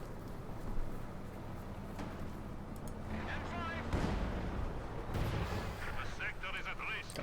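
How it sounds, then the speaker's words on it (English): A field gun fires repeatedly in a Company of Heroes 2 multiplayer match, heavy booms rolling under dense battlefield noise while a commentator talks over the action. "Field gun firing away."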